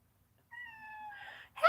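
A cat gives a clear, drawn-out meow close by in a quiet room, followed by a second sharper, louder cry.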